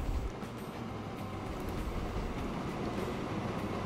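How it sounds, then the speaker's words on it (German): A long ore train in the Train Fever railway simulation game pulls into a depot with a steady, continuous rumble and rolling rail noise. It stays fairly loud and even throughout, with no voices. "Da ist der Erzzug. Fährt gerade ins Depot."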